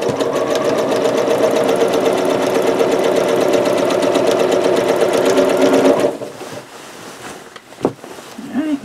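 A sewing machine runs at a steady, loud, even hum for about six seconds while stitching disappearing nine-patch quilt blocks, then stops, leaving quiet room noise and a couple of small knocks.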